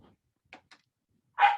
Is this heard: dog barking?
yes